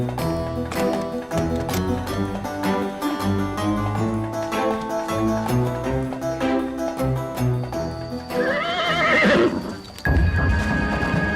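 A horse whinnies over busy background music in an Ali Baba legend cartoon, with hooves clip-clopping steadily along; the neigh rises loud and clear near the end.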